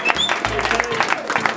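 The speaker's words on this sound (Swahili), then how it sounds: "mpigieni makofi." Applause from a gathered crowd at a surprise celebration for a reverend teacher in Kiambu County, a steady close clatter of clapping lasting the whole moment.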